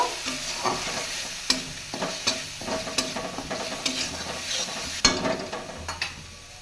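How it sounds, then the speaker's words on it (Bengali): Ground spice paste with salt and turmeric is stir-fried in a pan. A loud constant sizzle runs beneath frequent scraping strokes of a spatula against the pan, with no talking. "এখন স্বাদ মতো নুন দিয়ে দিব হলুদ গুঁড়ো দিয়ে দিব ভালো করে একটু কষিয়ে নেব"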